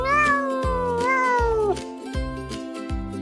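A barn cat meows in a few drawn-out, rising and falling cries, loud and close, over a steady rhythmic musical beat.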